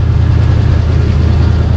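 Chevy G-body car engine running steadily while reversing, a loud close low rumble with an even throbbing pulse.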